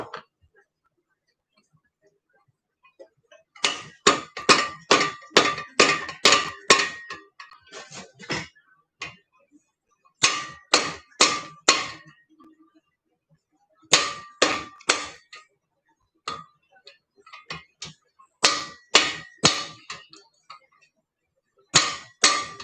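Repeated sharp metallic taps as a socket drives a bearing into a 4G63 engine block to plug the oil galley, coming in quick bursts of hits separated by short pauses.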